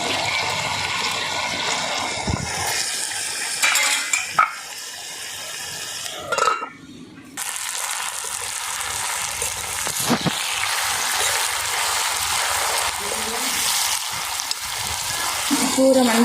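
Greens and tamarind pieces cook in a pan, a steady close sizzle and bubbling with occasional stirring scrapes, and a voice speaks over it at times.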